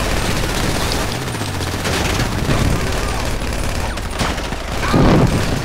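Gunfire in the PC version of GTA V, dense bursts of shots and booms packed tightly together, loud and close, with a player's voice talking over the shooting.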